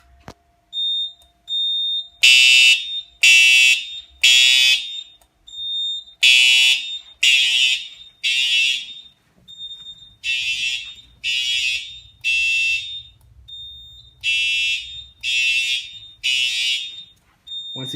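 An older smoke detector sounds a loud, piercing alarm in repeated groups of three harsh beeps separated by short pauses, continuing steadily with a faint low hum underneath.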